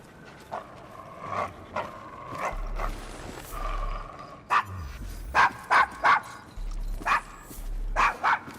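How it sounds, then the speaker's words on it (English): A dog in a rough Victorian London district in Assassin's Creed Syndicate barks in a string of short, close, loud woofs with low huffs and whimpery tones between them. "Is your dog quite all right?"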